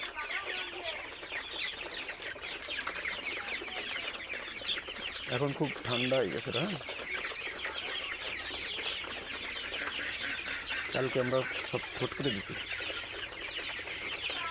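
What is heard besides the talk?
Sonali chickens clucking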